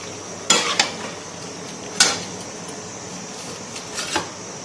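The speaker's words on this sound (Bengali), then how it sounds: "ভাজা পনিরগুলো এর মধ্যে দিয়ে দেওয়া হচ্ছে। এইবার এটা নাড়ছি" Fried paneer being stirred into korma gravy in a pan, heard as a few sharp utensil scrapes and clinks against the pan over a low, steady background, with no talking.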